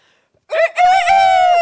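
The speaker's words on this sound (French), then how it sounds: "Le premier qui l'aperçoit et qui la reconnaît, c'est le coq perché sur le puits." A rooster perched on a well crows once during a live all-ages stage performance, a loud, close, drawn-out cock-a-doodle-doo that starts abruptly out of near silence and holds steady to the end.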